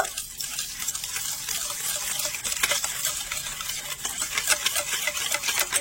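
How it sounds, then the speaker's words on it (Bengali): Curd and oil are whisked together in a bowl, giving a continuous wet swishing and stirring with bright splashy texture, steady and close, without speech. "এবার একটা হুইস্ক দিয়ে ভালো করে মিশিয়ে নেব।"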